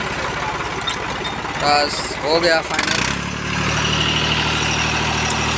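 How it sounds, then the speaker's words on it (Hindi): An Escort 335 tractor engine settles into a steady low idle after starting, a continuous rumble that fills the second half, with people talking over the start. "ये देखो ट्रैक्टर को स्टार्ट हो गया"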